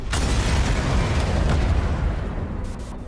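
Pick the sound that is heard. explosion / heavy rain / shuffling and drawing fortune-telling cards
explosion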